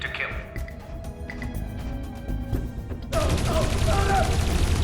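Gunfire in the Dreamfall Chapters video game: a quick series of sharp shots over a tense background score, followed by a louder, denser stretch of sound with a voice in it.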